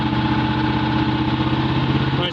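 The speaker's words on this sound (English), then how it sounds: "switch it off, the engine picks up a little bit, so it's doing something" A Miller Legend 302 welder generator's engine runs at a steady idle, loud and continuous, with voices talking over the drone.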